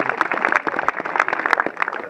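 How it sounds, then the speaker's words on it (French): Audience clapping at a French airsoft event briefing, a dense, steady patter of many hands at close range, lasting the whole stretch without talk over it. "Une bonne poignée d'applaudissements pour eux aussi"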